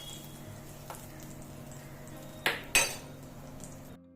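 Fried paneer is lifted out of a pan onto a plate, two sharp metallic clinks of utensil on dishware over a faint background sizzle.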